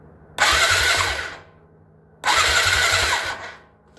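A Honda Rancher 350 ATV with a no-start problem cranks over twice in close, loud bursts of about a second each, separated by a short pause.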